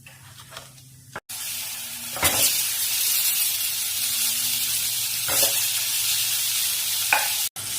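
Potatoes frying in about four teaspoons of oil with salt and turmeric, a loud continuous close sizzle broken by a few spatula scrapes and brief stirring clatters, no talking.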